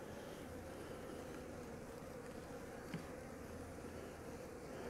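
Honey bees buzz at a hive entrance in winter, a dense, steady droning hum of many insects close by that holds constant throughout, with one faint click near the middle.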